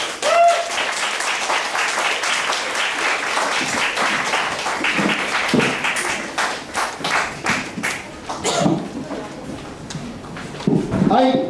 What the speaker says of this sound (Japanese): 改めて拍手お願いします